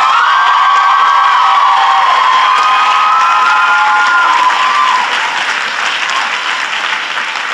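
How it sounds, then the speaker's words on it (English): A large graduation audience at a college commencement applauds loudly and steadily, with cheers and whoops rising over the clapping before it gradually tapers off. "So please give them a big round of applause."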